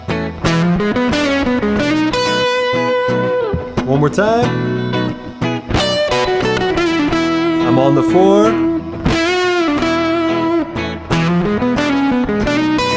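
A distorted electric guitar plays a blues rock lick, with bent and sustained notes over a looped backing, loud and gritty with some effects; someone speaks briefly over the playing.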